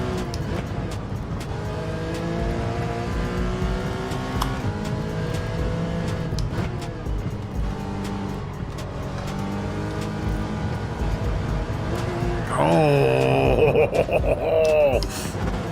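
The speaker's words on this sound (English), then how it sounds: "There's a little like transmission whine and I like it." Engine and transmission whine of a race car in Gran Turismo 7, a continuous layered tonal drone rising and falling with gear changes under steady chatter, with a louder screech of tires near the end.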